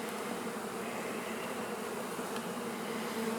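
Honey bees buzz around an open hive during a split, a dense, continuous hum of many insects at close range, fairly faint and steady throughout with no talking.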